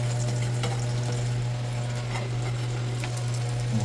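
Malvani chicken fries in oil in a home kitchen with a steady close sizzle, soft crackles and occasional stirring clicks over a constant low hum.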